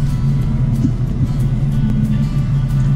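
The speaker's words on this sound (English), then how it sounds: "Another thing I love about this truck is the sound. You know, the exhaust is amazing." A Powerstroke diesel truck with a 5-inch straight-pipe exhaust from the downpipe back rumbles steadily and deeply at a near, even idle throughout, with no talking.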